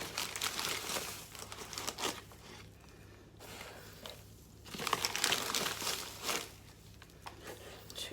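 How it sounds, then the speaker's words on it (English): Paper crinkles and rustles close by in uneven bursts, with short quieter pauses between handling. "Sorry about the noise of the paper."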